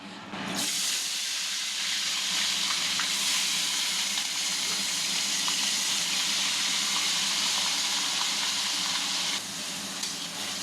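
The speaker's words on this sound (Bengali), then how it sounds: "এটা আস্তে আস্তে ভাজা হোক, মশলাটা কষুক" Onion, chili, ginger and garlic fry in a pan for a chicken curry, giving a steady, loud hiss and sizzle that keeps up without a break for about ten seconds and then eases slightly near the end.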